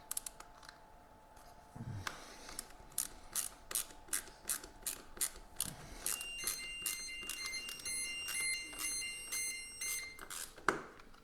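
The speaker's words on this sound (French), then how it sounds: "j'ai oublié d'éteindre l'alarme de mon jeu" A game alarm rings out in a fast series of bright, evenly spaced mechanical clicking bursts, loud and close, with a sustained electronic beeping tone layered in later, and no talking.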